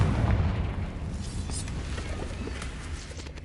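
A Confringo spell explodes in the video game Hogwarts Legacy with a low, booming burst at the start that fades into a lingering rumble.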